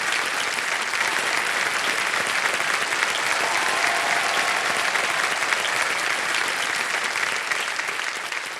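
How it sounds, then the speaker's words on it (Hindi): Studio audience applause on the KBC (Kaun Banega Crorepati) TV quiz show: a dense, steady wash of clapping that stays loud and even throughout with no pause. "एक बार फिर जोरदार तालियां बज जाएं"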